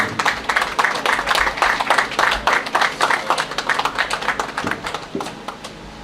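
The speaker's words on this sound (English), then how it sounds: "A round of applause for him." An audience claps for a welcome speaker at the opening of a memorial hospital, a dense burst of applause that holds steady, then thins and fades over the final second or so.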